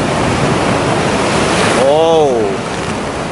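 Ocean waves splash against smooth rocks on the coast at Inamuragasaki, Kamakura, a loud wind-buffeted surge of surf close to the microphone, with a short exclamation from a voice.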